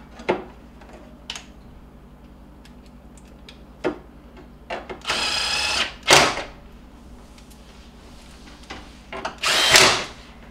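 A power drill drives screws to refit the cover on a GE refrigerator's main control board, with several short whirring bursts, the longest near the middle and end, between quiet clicks and handling noises close by.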